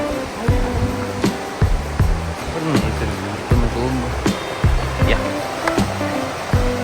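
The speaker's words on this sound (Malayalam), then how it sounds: "ഈ ഒരു അരുവിൻ്റെ സൗണ്ടാണ് നിങ്ങളിപ്പോൾ കേൾക്കുന്നത്." A small mountain stream flowing over rocks, a steady close rush of water with repeated splashing surges, speech heard now and then over it.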